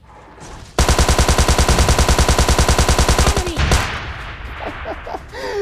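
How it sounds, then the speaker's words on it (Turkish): Automatic gunfire in the mobile shooter PUBG Mobile Lite, with a rocket launcher in play: a loud, rapid burst of about three seconds of evenly spaced shots, then a sudden stop, followed by softer, scattered after-sounds. "Al işte adam roket atıyor."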